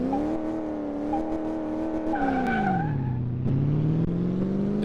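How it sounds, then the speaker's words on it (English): A 1966 Chevy C10 pickup truck engine with no performance parts revs in the game Car Mechanic Simulator 2018, a loud sustained drone whose pitch climbs, drops and climbs again, with a brief tire squeal partway through. "It sounds pretty good for an older truck."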